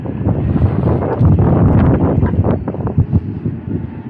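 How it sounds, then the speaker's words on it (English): Strong wind buffets the microphone outdoors, a loud, gusty rumble that swells and drops unevenly throughout without any voices. "It's windy, cuz."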